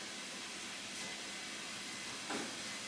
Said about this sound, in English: Cook onions. Bam, onions. Sizzle, sizzle. Cook the onions.